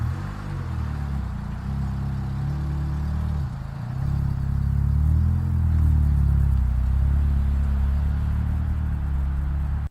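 A car engine idles and rumbles steadily, close by and low-pitched, growing a little louder partway through as the car is pulled out.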